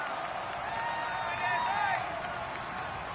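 A stadium crowd roars and cheers during a video game football match, a steady loud wash of massed voices swelling briefly midway, with a commentator talking over it.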